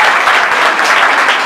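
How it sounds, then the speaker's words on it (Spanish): A church congregation bursts into loud, close applause during a worship service, a brief thick burst of clapping with no speech on top. "Denle un aplauso al Rey del Cielo"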